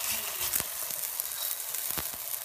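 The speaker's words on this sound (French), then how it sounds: "On va le mettre dans la poêle." Msemen, a Moroccan flatbread, laid as dough into a hot pan, giving a steady close frying sizzle with a couple of soft knocks, no voices over it.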